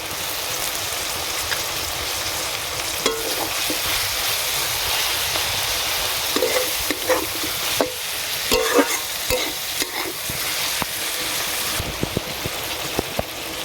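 Chopped tomato added to hot oil in a pan, frying in a steady loud sizzle while a utensil scrapes and stirs it, knocking against the pan in intermittent clatters.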